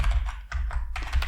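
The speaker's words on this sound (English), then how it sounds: "I'm typing around my microphone, which is making it very awkward" Rapid typing on a computer keyboard close to the microphone, a dense run of clicky keystrokes with a brief pause midway and no voices.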